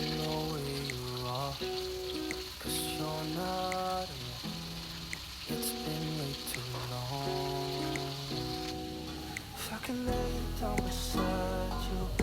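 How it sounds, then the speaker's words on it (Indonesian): Shrimp briefly frying in a pan of oil, a steady sizzling hiss running under louder background music throughout. "aku mau goreng dulu udangnya ya teman-teman"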